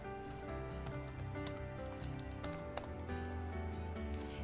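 Several keyboard key presses and mouse clicks tap out faintly, scattered and irregular, beneath a soft background hum.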